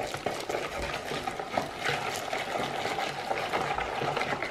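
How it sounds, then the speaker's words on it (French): Hot milk being whisked into a coffee-coloured cream mixture in a bowl for brioche filling, a steady wet stirring and light clinking running continuously at close range. "je viens ajouter 25 centilitres de lait chaud tout en fouettant"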